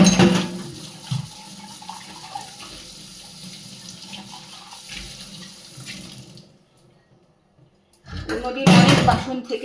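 Glass dishes are washed under a running kitchen tap, with steady water flow, a pause, then a louder burst of splashing near the end, while someone talks over it.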